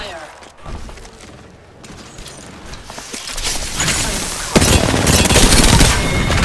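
Gunfire from an Apex Legends match, played as Ash in Season 17: bursts of automatic fire and impacts swell and build, with thuds and mechanical clatter and some voice underneath.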